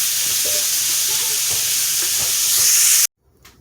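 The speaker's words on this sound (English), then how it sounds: "we want to cook this until your meat is completely done" Ground beef frying in a pan for Jamaican beef patty filling, a loud close sizzle with light stirring scrapes running continuously before cutting off sharply near the end.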